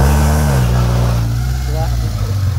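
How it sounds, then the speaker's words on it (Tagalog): A Mitsubishi Lancer engine climbing an uphill road revs hard with a loud, strained, droning hum close by, while someone talks over it. "Ayan, galit na yung makina."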